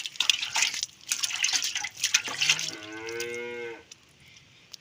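A cow moos once during manual milking, a long, drawn-out low call that rises out of splashing and dripping water, then fades into near quiet.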